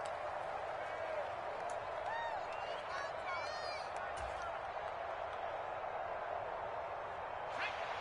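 Crowd noise in an American football video game swells steadily across the stadium ahead of a big third down, a continuous roar of cheering and clapping beneath faint play-by-play commentary.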